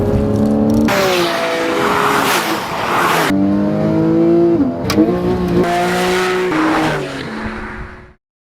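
A loud 2012 Porsche 911 (991) direct-injection boxer engine revs and climbs through gears, pitch rising and dropping with each shift, as the car drives hard close by on twisting mountain roads.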